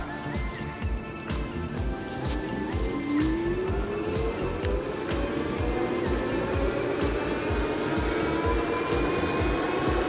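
An Aventon Level 2 electric bike motor whines steadily as it climbs a road incline on full throttle, its pitch rising gradually over a constant rushing road and wind noise.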